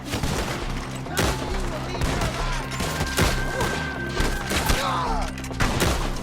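Rapid gunfire in a Red Dead Redemption 2 forest shootout, dense overlapping rifle and pistol shots from several shooters, loud and continuous, with shouting voices mixed in.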